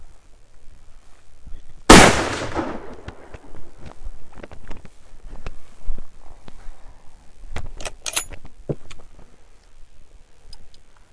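Lee-Enfield No.4 rifle, oiled action, firing a single sharp, loud shot that rings out briefly, followed by quieter bolt clicks and handling noises.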